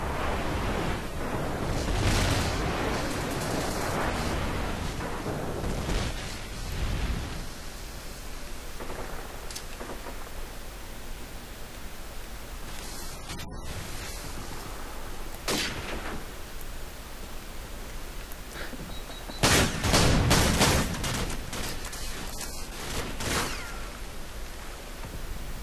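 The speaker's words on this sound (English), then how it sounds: "Or an airstrike." Call of Duty 4 multiplayer battle with heavy airstrike explosions and gunfire, several loud booming blasts and bursts spread across the stretch, the biggest cluster near the end, over constant rumbling game noise.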